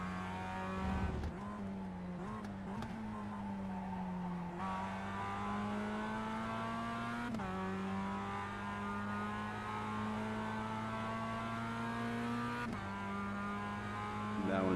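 An onboard Mazda MX5 race car at Phillip Island, its engine droning steadily and then dropping in pitch as it shifts up through the gears, each change a brief dip before the revs climb again.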